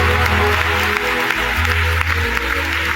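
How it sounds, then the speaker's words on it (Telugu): Congregation clapping during a Friday Christian sermon, a continuous, busy patter of hands held over a low, sustained instrumental drone throughout. "కొట్టు చప్పట్లో"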